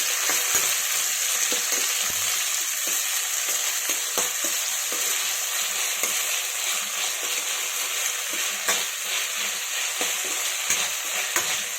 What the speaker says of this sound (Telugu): అల్లం వెల్లుల్లి పేస్ట్ అనేది పచ్చివాసన పోయే వరకు ఇలా ఆయిల్ అయితే వేయించుకోవాలి.